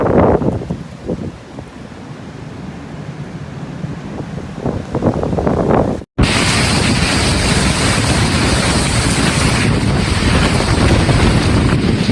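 Typhoon Ragasa wind and waves, with heavy gusts buffeting the microphone and surf churning, then a sudden cut to a louder, dense roar of wind and crashing water.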